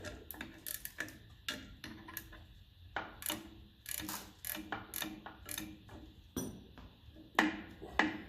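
Ratcheting clicks from an adjuster being tightened with a hand tool on a 1954 Ferguson TEF diesel tractor, close and fairly quiet, in short bursts of rapid ticks with pauses between them.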